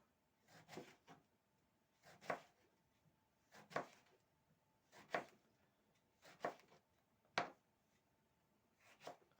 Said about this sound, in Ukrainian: Тепер, друзі, те саме роблю з баклажанами. Також нарізаю.